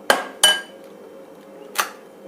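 Eggs cracked against the rim of a mixing bowl for cupcake batter, two sharp hard taps close together, then after a pause a third knock, close and clear with a faint hum behind.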